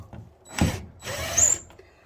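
A power drill drives a screw into a trailer, giving two short whirring bursts close by with a brief pause between them, and no voices over the sound.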